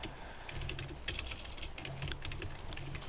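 Steady, close typing on a computer keyboard while writing JavaScript code, quick irregular key clicks with no talk.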